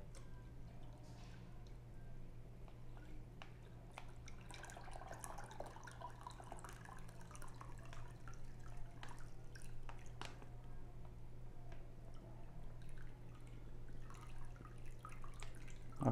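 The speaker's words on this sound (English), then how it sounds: "And now we're ready to pour off this water." Water drained from a fish bag trickles and drips continuously with small splashes over a steady low hum, moderately close and fairly quiet.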